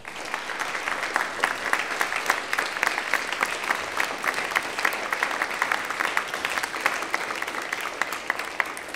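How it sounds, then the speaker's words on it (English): Audience applauding the artists behind a tower, sustained dense clapping at an even level throughout, with no voices over it. "very big applause."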